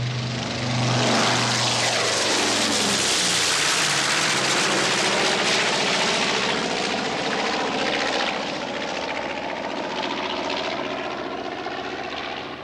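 Propeller engines of a World War II B-25 bomber in flight, a loud, steady drone with a sweeping pitch shift early on as the aircraft passes close, then a sustained roar that thins slightly toward the end.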